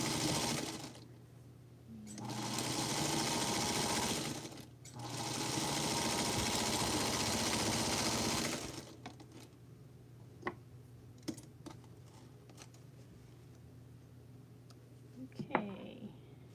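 A sewing machine stitches feathered star quilt blocks with Aurifil thread in the bobbin, running in two sustained bursts of fast, even whirring, then stopping as fabric is handled with soft clicks and a few quiet taps.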